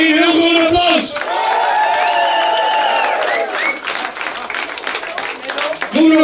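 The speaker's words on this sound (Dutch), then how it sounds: "Nog één keer een heel groot applaus!" Crowd at a CD presentation concert bursts into loud applause and cheering, with clapping and shouts filling the room between a raised voice at the start and again at the end.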